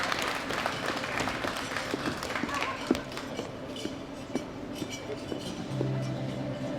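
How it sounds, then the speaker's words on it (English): Audience clapping for the winners at the 2017 World Classic Powerlifting Championships, a moderate, fairly distant wash of applause with scattered louder claps and a faint voice near the end. "Big round of applause for all of our winners"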